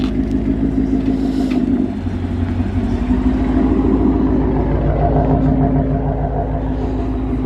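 A loud Gen 3 Ford Mustang with a 5.0 engine rumbles and revs, a heavy continuous low drone that dips briefly and then swells back, close by and dominating with no talking.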